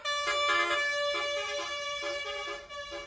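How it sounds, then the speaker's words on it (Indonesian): A bus telolet horn plays a bright, tuneful melody of rising and falling tones in front of shops on a street, sounding moderately loud and a little distant, with no voices over it. "Alunan klakson telolet yang khas menggema di lokasi tersebut, membuat suasana di sekitar pertokoan menjadi meriah."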